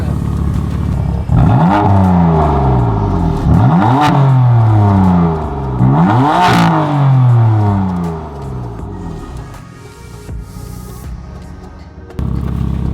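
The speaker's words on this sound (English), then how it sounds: "Let's get a little rev." A 2018 BMW M4 engine revs hard three times in quick succession, each rise and drop clearly audible, then settles to a low idle rumble.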